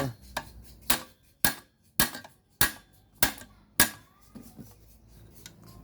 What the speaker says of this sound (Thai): ได้แล้วก็เคาะเข้าไป